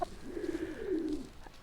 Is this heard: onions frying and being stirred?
no